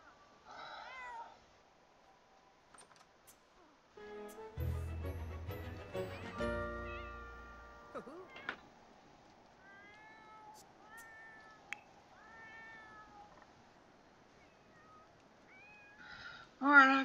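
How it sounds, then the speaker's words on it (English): Cat in heat in The Sims 4, giving several short tonal meows and yowls across the clip, with game music and sound effects in the middle and a louder cry at the end. "And the cat's in heat."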